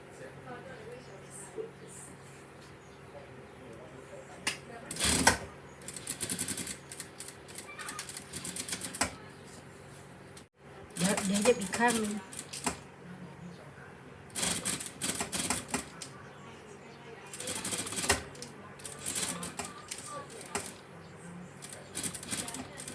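A sewing machine stitches a curved dart on a skirt panel in short, rapid bursts separated by pauses, with a voice talking quietly between runs.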